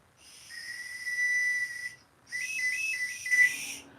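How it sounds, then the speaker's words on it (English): Oscar Mayer Wienermobile toy whistle, decades old, blown close up in two blasts: a steady shrill tone with a breathy hiss, then a warbling second blast that ends in a short chirp. "It's an Oscar Mayer Wienermobile whistle."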